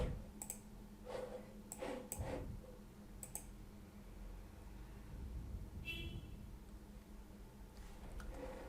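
A few faint, sharp computer mouse clicks spaced across a quiet room with low background hum, made while applying Windows 10/11 desktop icon settings.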